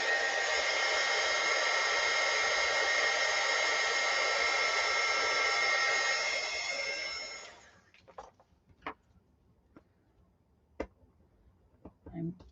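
Heat gun blasting a steady, loud airflow roar onto a small plastic piece for about seven seconds, then switching off, leaving faint clicks and handling noises.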